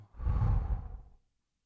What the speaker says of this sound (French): Et je relâche en soufflant